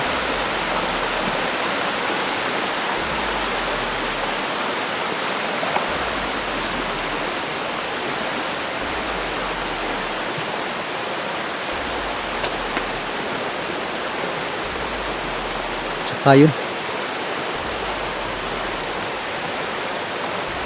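A river flowing in the rain, a constant loud broadband rush of water very close, with a brief spoken word partway through.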